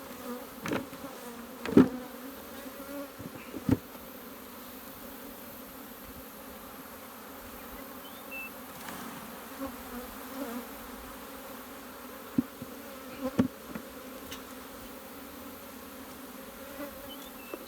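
Honey bees buzz steadily around open hive frames during a summer hive split, a continuous close drone with a few sharp thumps and clatters from frames being handled and shaken.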